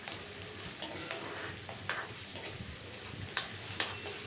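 Garlic and ginger paste fries in an oiled pan with onions, a steady crackling sizzle punctuated by several sharp spatula scrapes and stirring knocks, close and alone.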